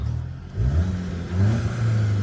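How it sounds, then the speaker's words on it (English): A Mk7 Golf GTI turbo inline-four engine revs up twice in short bursts, rising in pitch and then settling into a steady idle, close and loud. "And here are some revs."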